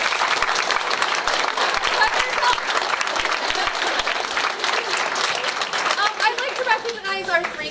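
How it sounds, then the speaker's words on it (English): An audience applauds at a high school winter sports awards ceremony, dense clapping mixed with crowd chatter that thins toward the end as a voice begins to come through. "So I'd like to give them a round of applause."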